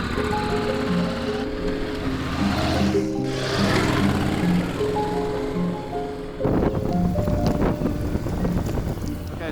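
Honda NC750X DCT motorcycle being ridden, a steady engine hum with shifting pitch buried under heavy wind rush, and a voice talking over it.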